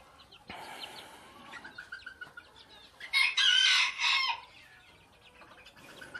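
Fish-scale chickens in a coop give a loud, close rooster crow, along with scattered clucks and soft calls before and after it.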